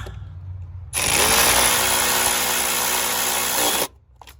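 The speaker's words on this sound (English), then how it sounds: "Now, come in here and tighten up your 8mm bolts." A power tool whirs steadily for about three seconds, loud and close, as it drives 8mm bolts tight, then cuts off abruptly into quiet.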